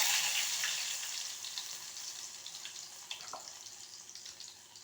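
Cumin, mustard seeds, urad dal and other dal fry in plenty of oil for a ridge gourd curry, making a loud bright hiss that eases slowly, with small pops and crackles.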